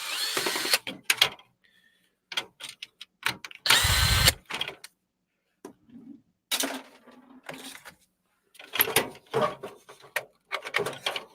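A power tool undoes screws on a device, giving a loud, short whirring burst in the middle of otherwise sparse clicks and handling noises, with brief quiet gaps between them.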